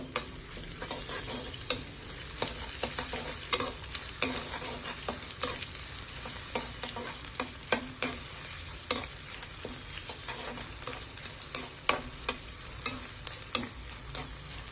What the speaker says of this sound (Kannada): ಬೆಳ್ಳುಳ್ಳಿ, ಶುಂಠಿ, ಹಸಿಮೆಣಸಿನ್ಕಾಯಿ ಮತ್ತು ಒಣಮೆಣಸಿನ್ಕಾಯಿನೆಲ್ಲ ಹಾಕ್ಕೊಳ್ಳೋಣ. ಫ್ರೈ ಮಾಡ್ಕೊಳ್ಳಿ.